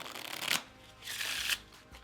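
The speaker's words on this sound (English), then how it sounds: "I'll give it a quick riffle shuffle as well." Two quick riffle shuffles of a deck of playing cards, each a brief fluttering rush of card edges, close by and crisp, followed by a soft tap.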